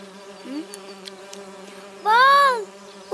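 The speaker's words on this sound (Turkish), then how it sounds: "Vız vız vız vız uçuyor arı." A cartoon bee buzzes in one short, loud, wavering sweep near the end, over a steady musical drone.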